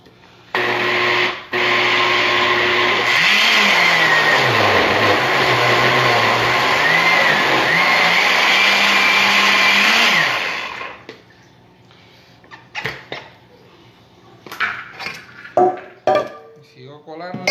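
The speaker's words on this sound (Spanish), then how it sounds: "me queda un poquito más para moler esto para poder, pues, hablar mejor y sin tanto ruido" A countertop blender grinds Puerto Rican sofrito ingredients in a home kitchen. It gives a loud, steady whir with its pitch rising and falling for about ten seconds, then stops, leaving clinks and soft handling noises.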